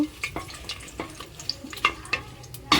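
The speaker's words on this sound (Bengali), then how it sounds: "গোটা মশলা দিয়ে দেবো তেলের মধ্যে, দিয়ে হালকা নেড়ে নেব।" Whole spices crackling in a small amount of hot oil while being lightly stirred, soft scrapes and sharp pops recurring every few tenths of a second, with a louder burst near the end, close and fairly quiet.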